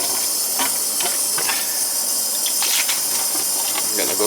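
Water gushes and hisses steadily through a newly replaced hot water storage tank and heating system, a constant loud rushing flow with faint clicks and knocks, and a voice talks briefly over it.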